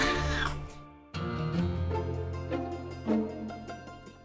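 A male house cat meows in long, drawn-out calls, close and clear, several wavering cries in a row, indoors with no talking over them.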